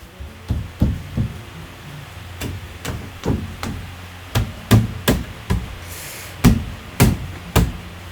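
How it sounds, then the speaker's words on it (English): Wooden handrail being fastened from underneath a shelf in a new build, a close series of sharp knocks and thuds at an uneven pace, loud and clear with no voices. "To secure the handrail, I apply glue and screw it in from underneath the shelf."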